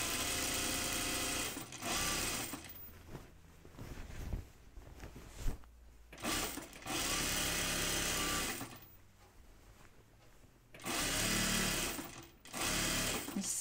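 A sewing machine stitches a seam on an unlined jacket in several loud bursts of steady whirring, with short quiet pauses between runs.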